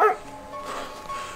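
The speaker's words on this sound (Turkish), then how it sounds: "Köpek sesi geliyor arkadaşlar ileriden." A distant dog gives one short bark at the start, then faint yelping calls follow over a quiet outdoor background.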